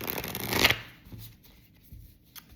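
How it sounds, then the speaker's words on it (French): Tarot cards are shuffled close up in one brisk riffle burst lasting under a second, followed by faint soft handling noises. "3 cartes de chaque, un autre brassage."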